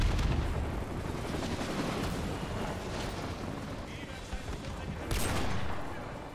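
Dense gunfire and distant explosions from Call of Duty Modern Warfare 2 form a continuous, rumbling battle din, with faint voices underneath.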